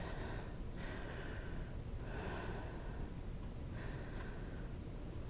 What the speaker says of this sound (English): Nice, full, steady, complete breathing.